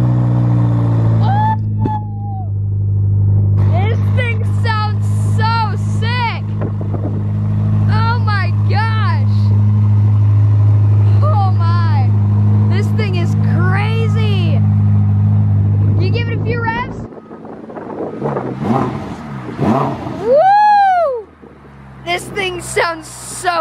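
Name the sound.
Ferrari SF90 hybrid supercar engine revving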